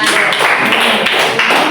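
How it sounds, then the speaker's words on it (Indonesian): Short burst of classroom clapping for a student group presenting, close and fairly loud, with scattered claps over under two seconds. "Tepuk tangan untuk kelompok yang ada."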